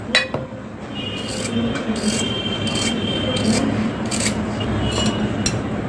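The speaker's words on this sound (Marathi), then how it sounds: "तर हा बटाटा आहे त्याची आपण चांगली आता साल काढून घेऊया" A potato being peeled with a scraping stroke, a steady close rasping rub repeated in quick even passes.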